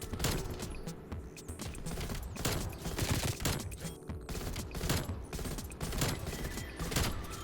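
Rapid bursts of automatic gunfire from the video game Black Ops 6 crackle in repeated volleys over several seconds, with game sounds and no speech.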